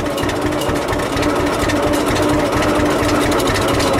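A John Deere tractor's engine runs slowly at low revs, a loud, steady, close rumble with a throbbing low-pitched rhythm.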